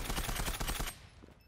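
Rapid automatic gunfire from the video game Zula, apparently an MP7 with a Quantum suppressor, rattles in a dense burst of shots lasting under a second, then cuts off into quiet game ambience.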